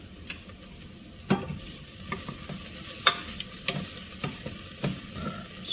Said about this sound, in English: So all that's in here right now is olive oil and onions, diced onions.